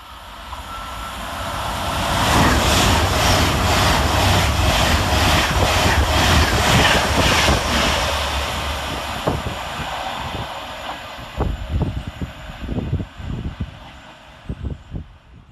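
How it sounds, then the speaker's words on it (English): Avanti West Coast train 390-122, running from London Euston to Manchester Piccadilly, passes through Goostrey station: a loud rushing roar swells, carriages pulse past rhythmically, then it fades into wheel clatter over the rail joints. "Next for Avanti West Coast is 390-122, working 1H10 from London Euston to Manchester Piccadilly via"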